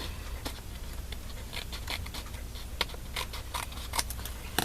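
Small scissors snip around scraps of card, with irregular crisp cuts and papery rustles close by over a low steady background hum.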